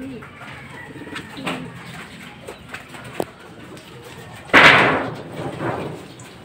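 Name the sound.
racing pigeons cooing as they arrive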